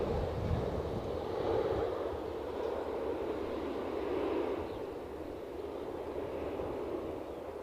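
An airliner passes at Edinburgh airport, a broad, steady jet roar swelling slightly and then easing, with wind buffeting the microphone throughout.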